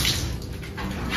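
Water poured while washing a gate at home after soaping, a steady rushing splash with no pauses, loud and close.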